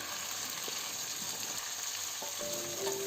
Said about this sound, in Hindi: लहसुन अच्छी तरह से सौटे हो चुका है। अब इसके अंदर शामिल करेंगे 250 ग्राम चिकन का कीमा।